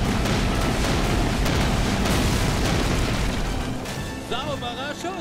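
Dense, continuous explosions and artillery blasts rumble through a castle battle in the WWII shooter Call of Duty: United Offensive. The booms are loud and overlapping, then thin out near the end, where high whistling tones rise and fall.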